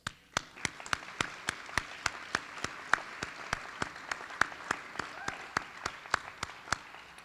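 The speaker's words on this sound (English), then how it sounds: "take a moment to get a round of applause for a group that's generally unnoticed, and that would be the graduates' families" At a high school scholarship night, a small audience gives the graduates' families a round of applause, with faint, regular individual claps ticking out at an even pace against a quiet room.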